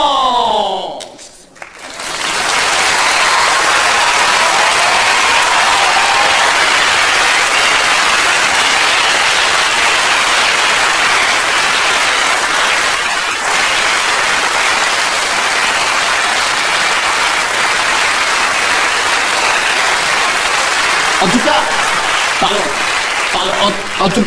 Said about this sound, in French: Vous pouvez reprendre les applaudissements.